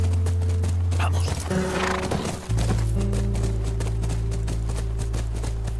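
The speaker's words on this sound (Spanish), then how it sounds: "Es nuestro caballo." Rhythmic clip-clop of horse hooves at a fast pace in The Last of Us, with a whinny and steady background tones, loud and close.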